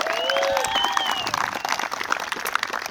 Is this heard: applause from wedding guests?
yes